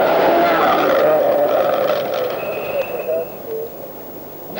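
A Ford Escort RS rally car drives a stage at the 1980 Scottish Rally, its engine note whining and shifting as it passes at moderate distance, then fading.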